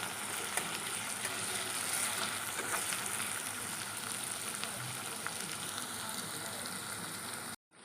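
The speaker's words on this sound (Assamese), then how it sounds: "অলপমান দেৰি মই পিঁয়াজ নহৰুখিনি পকিবলৈ দিছোঁ" Onion and garlic sizzle in a pan for an Assamese-style chicken dish, a dense, even crackle and hiss close by that cuts off abruptly at the end.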